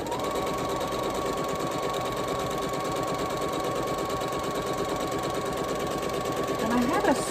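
A domestic sewing machine stitches quilt blocks together, a loud continuous fast mechanical whir that runs unbroken close by, with a brief voice near the end.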